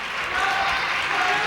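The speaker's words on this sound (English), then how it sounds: "Nice round of applause." Crowd applause fills a gym during a 1998 high school women's basketball game between Winthrop and Saugus, a steady dense clapping wash that runs throughout and may have a voice mixed in.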